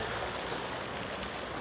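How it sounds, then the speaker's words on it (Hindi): Fast, turbulent river water rushes over a vehicle crossing on the Manali–Leh highway, a steady broadband roar heard moderately loud without voices. "पानी बहुत उछल है"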